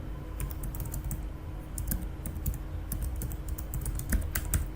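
Quick, light keystrokes on a computer keyboard entering a username, in irregular bursts of clicks close up with brief pauses between, no voices.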